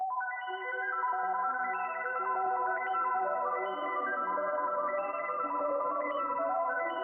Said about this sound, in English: So I added some Portal with this Mest preset, and I added an EQ cutting a lot of the highs out.